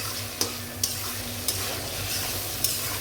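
Onions fry in oil for Bangladeshi beef tripe bhuna under a continuous sizzle, while a spoon scrapes the pan in four sharp, regularly spaced strokes.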